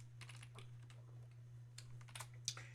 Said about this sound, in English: And I'm going to type in my answer.